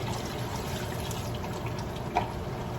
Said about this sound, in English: Time to add the water and make the gravy.